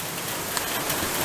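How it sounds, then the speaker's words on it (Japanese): Steady rain falls outside a cave on Okinawa, a dense even patter of drops spread across the whole moment with no voices. "いやまた雨降ってんな。"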